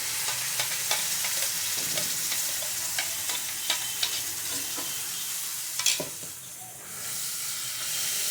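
Pumpkin paste poured into a hot pan for pumpkin pasta, a loud close sizzle and hiss with repeated stirring clicks, then a brief burst of steam as the paste goes in before the frying settles back.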